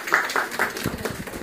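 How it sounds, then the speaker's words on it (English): A small audience at a Momma and Me jewelry presentation claps in a quick, uneven burst, the individual hand claps close and distinct for a moment before fading out. "everybody clap for Brittany"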